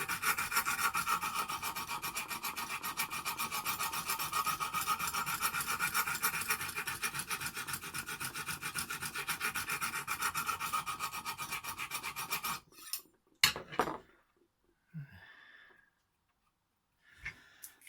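A Lansky guided sharpener working the edge of a Stedemon A01A knife in CTS 204P steel, giving a close, even rasping of rapid strokes that runs for about twelve seconds, then stops for scattered clicks and handling taps.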